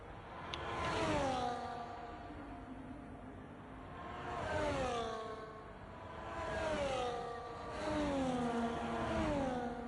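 A Formula 1 car engine in an F1 video game, on a lap at Qatar, rising and falling in pitch through several swelling rev sweeps, steady and fairly loud with no talk over it.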